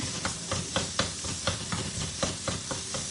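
A pink mix-and-chop utensil scrapes and stirs onions and a frozen piece of meat in a Brilliance skillet, giving a steady rhythmic series of scraping strokes over a continuous sizzle.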